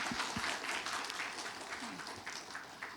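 An audience at a Middle East conflict forum applauds to welcome an ambassador to the stage, a brief dense round of clapping with a few louder nearby hand claps.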